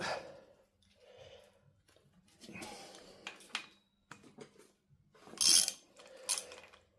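Cylinder head bolts being slackened off on a Talbot Express engine during a rebuild, heard as short metallic ratchet clicks and clinks in separate bursts with quiet gaps, close by and moderately loud.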